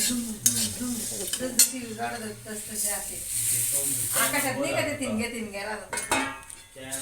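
Puffed rice (murmura) tossed with a little oil and turmeric in a pan as a quick snack, with steady scraping and stirring close by under a continuous talking voice.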